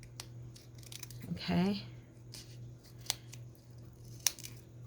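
Scissors trim through paper in a few crisp, close snips and clicks, spaced out over a few seconds, with someone briefly speaking and a quiet steady hum in the background.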